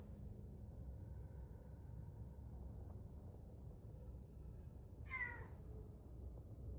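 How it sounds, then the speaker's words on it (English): A loud cat meow from Alan Wake 2 rings out once near the end, a single rising-falling yowl over a steady low game rumble. "That was a very loud kitty"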